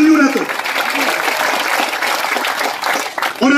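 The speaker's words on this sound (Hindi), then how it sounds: "एक बार जोर से तालियां बजाकर स्वागत करो" Loud crowd applause at a village honour ceremony for an NDRF jawan, a dense continuous clapping roar lasting a few seconds, with a speaker's voice briefly at the start and end.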